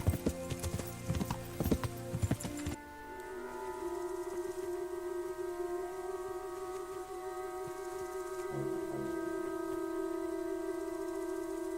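A horse in the video game Kingdom Come: Deliverance clip-clops in a rapid, rhythmic hoof pattern for a few seconds, then stops under steady tonal game music that fills the rest of the clip.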